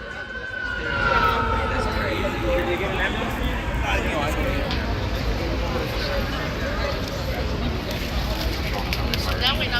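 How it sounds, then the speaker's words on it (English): An electric fire truck's siren wailing as it approaches along a street, its rising and falling tones sweeping under constant nearby talk and traffic rumble. "this might be electric fire truck on its way over here"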